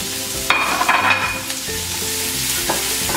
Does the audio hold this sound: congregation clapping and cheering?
no